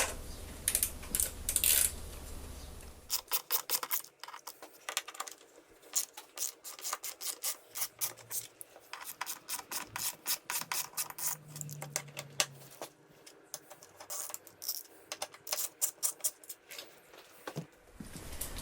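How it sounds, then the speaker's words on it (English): Bolts come off a BMW rack on an F 750GS motorcycle with rapid ratcheting clicks in close bursts, broken by short pauses and small metallic taps. "So I start to remove those bolts."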